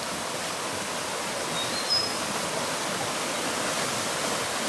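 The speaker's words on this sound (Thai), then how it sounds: "น้ำไหลแรงมากๆนะ" A strong, fast-flowing stream beside a riverside campsite, its broad steady rush close by and continuous, with no voices over it.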